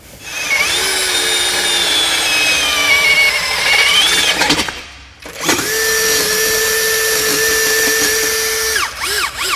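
A cordless drill runs in drill mode as a long, loud motor whine. It stops briefly, then starts again at a steady, higher pitch, and ends with a short spin-down and a few quick restarts.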